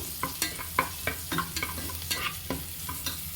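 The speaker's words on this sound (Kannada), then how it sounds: "ಇದೊಂಚೂರು ಫ್ರೈ ಆಗಬೇಕು, ಫ್ಲೇವರ್ ಬಿಟ್ಕೊಳ್ಳಿ ಬೆಳ್ಳುಳ್ಳಿದು" Garlic fries with turmeric powder in a pan, sizzling steadily while a utensil stirs and scrapes in a series of sharp, irregular knocks close by.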